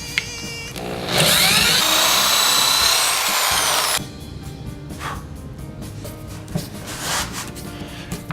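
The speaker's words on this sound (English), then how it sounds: "The new drill bit I'm using is a 5/32." A power drill with a 5/32 bit bores into solid wood while a rack is installed, giving one loud, close whine of about three seconds, followed by quiet handling noises.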